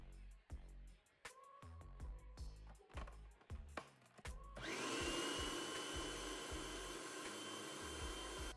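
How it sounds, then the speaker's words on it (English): Food processor whirring through eggs and fresh herbs for a lasagna filling, starting abruptly after a run of knocks and clatter and then holding a loud, steady motor drone. "we're going to get that over into the food processor with a couple eggs and some fresh herbs"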